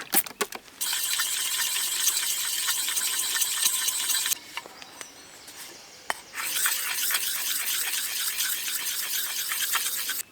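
An axe blade is rubbed back and forth on the fine grit side of a sharpening stone. Steady close rasping strokes come in long runs with a brief pause and occasional clicks, and no talking.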